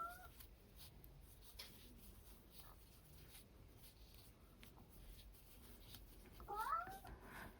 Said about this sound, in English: If you can hear some noise, it's my cat.